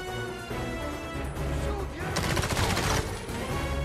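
Blind-fire gunfire from cover in the PS3 spy shooter 007 Blood Stone, heard as loud, rapid bursts of shots with crashing impacts, the heaviest volley near the end, over game music.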